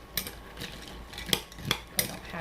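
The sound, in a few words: stirring a bag of ingredients with a spoon before microwaving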